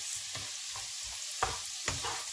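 Garlic sautéing in a pan until it browns, a soft steady sizzle broken by a few light stirring scrapes, fairly quiet and close.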